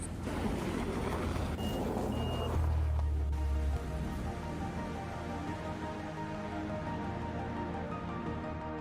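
A Scania truck idles with a low diesel rumble while steady reversing beeps repeat, loud at first and then settling into a continuous hum.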